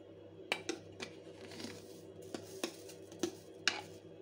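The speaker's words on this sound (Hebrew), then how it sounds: "ואני מערבב את הכל יחד עד שאני מרגיש שכל המקלות מצופים" Sweet potato sticks being tossed with black pepper, salt and spices in a bowl, giving soft irregular clicks and light knocks against the bowl, quiet and close with no talking.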